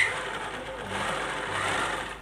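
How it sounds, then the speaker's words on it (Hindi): A sewing machine stitches a crochet-belt blouse back and forth to lock the seam, a steady close mechanical whir running continuously, with no voices. "यहाँ सिलाई आगे पीछे करके बांध देते हैं।"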